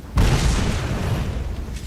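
A grenade explodes in the Fable 3 video game: a sudden heavy boom hits after a brief quiet moment, then a dense rumbling blast decays gradually over the next second and a half.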